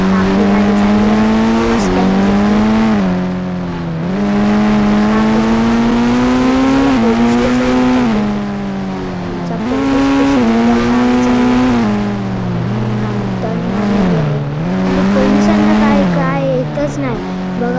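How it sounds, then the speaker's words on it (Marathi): A car in a video game drives and revs, its engine tone continuously rising and falling in loud, close sweeps with repeated gear-like climbs, steady and prominent for the whole stretch. "आपली गाडी चालली आहे."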